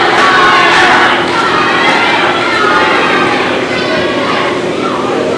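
Wrestling crowd at a GCW show cheering and shouting loudly as a wrestler urges support, a dense sustained roar of voices that swells early and stays strong throughout.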